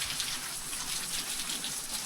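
Rain falls outside a closed door at a village home as a dense, steady hiss with no breaks, moderately loud and with no talking.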